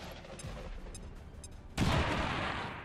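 A grenade blast in X-COM 2 lands partway through, a sudden loud boom with a rumbling tail that holds to the end, following a stretch of low game ambience.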